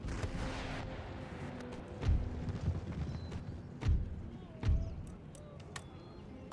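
Cavalry of the Horse Guards charges in the video game Empire Total War, a distant rumbling battle scene with several heavy thudding impacts like cannon fire and creaking, clattering movement at moderate level.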